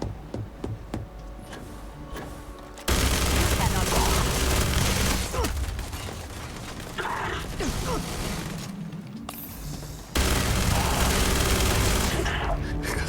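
Mag shear gunfire in the video game Starfield comes in loud, sustained bursts that cut in and out, dense shredding volleys separated by quieter stretches of game ambience.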